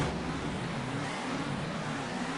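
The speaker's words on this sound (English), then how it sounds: "the engine revs rise as the drivers wait for the start of the day's sprint race" Race car engines in TOCA 2 Touring Cars rev steadily together as the field waits on the grid at Thruxton for a sprint race start, a continuous dense roar with no breaks.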